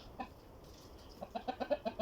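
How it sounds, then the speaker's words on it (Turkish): Chickens clucking in a quick run of short, separate calls that grow busier toward the end, heard fairly close. "Bunlar da tavuklarımız."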